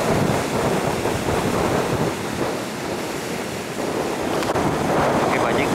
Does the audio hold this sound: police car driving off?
no